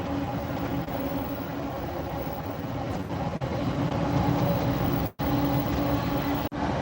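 Intermodal freight train hauled by locomotive 66514 rolling past on the West Coast Main Line north of Crewe, a loud continuous rumble and wheel roar with two sharp dropouts near the end.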